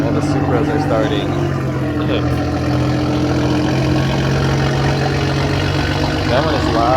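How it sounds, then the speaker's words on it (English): Several Toyota Supra engines rumble at idle nearby with a steady, loud drone, and a few brief revs rise above it while people talk in the background. "All the Supras are starting."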